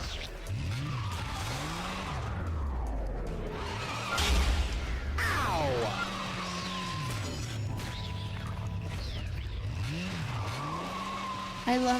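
Motorcycle riding in the action video game Bayonetta, with a revving engine, repeated tire skids and squeals, whooshes and crash-like impacts. Game sound effects form a busy, continuous mix, and no one talks.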